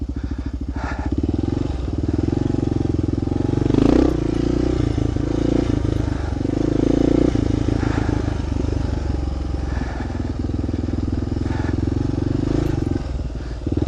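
A heavy, hard-to-handle motorcycle ploughs through loose sand on a dirt road, its engine droning loudly and steadily close by with surging revs and occasional clattering from the bike.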